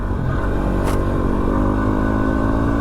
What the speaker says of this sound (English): WR's is the best bike to be out here on. Humble, reliable Yamaha.